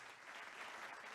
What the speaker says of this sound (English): the people applaud